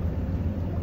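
Boat engine running steadily at 1400 RPM, driving a Bruntons Autoprop propeller: a continuous low, even rumble close by with no break.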